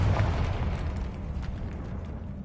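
A heavy rumbling blast from the Confringo fire spell in Hogwarts Legacy, loud at first and then a sustained low roar that slowly tapers, with no talking.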